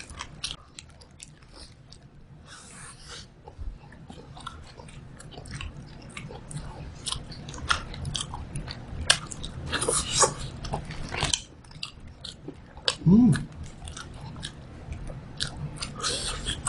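Someone bites and chews a McDonald's McChicken Mozzarella burger up close, with soft crunches and wet chewing in irregular bursts and a few louder bites standing out.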